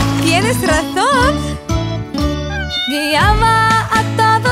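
Cartoon cat meows sung by a voice imitating the sound in a children's jungle song, several gliding meow calls riding over steady, bright backing music with jingling accents.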